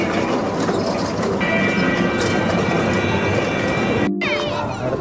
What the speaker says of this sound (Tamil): இங்கே ஒரு சின்ன ட்ரெயின் மாதிரி குழந்தைங்க விளையாடுறதுக்கு